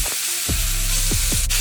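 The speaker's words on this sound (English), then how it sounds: "as you can see, it's sizzling very nice" Steady loud sizzling of a portobello mushroom burger frying in a pan, with a few low thuds and clinks of a utensil against the pan.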